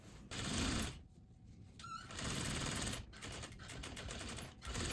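A sewing machine stitches a zipper on jeans in quick bursts, its rapid mechanical chatter stopping briefly and starting again, close by.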